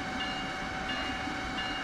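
A train running in the Train Sim World video game: a steady, close rolling rumble with faint sustained humming tones, continuous and unbroken, with no talking.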